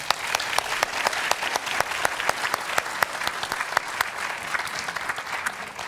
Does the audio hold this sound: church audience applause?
yes